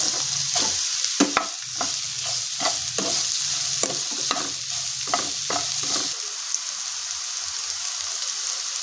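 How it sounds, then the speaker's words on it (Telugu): Ridge gourd pieces mixed into egg batter and fried in a pan, a soft sizzle with repeated spatula taps and scrapes for about six seconds, then only a quiet hiss. "బీరకాయ ముక్కలు వేసుకొని మిక్స్ చేసుకోవాలి"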